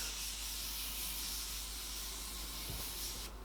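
A fine spray mist hisses in a soft, continuous stream for a few seconds, quiet and close.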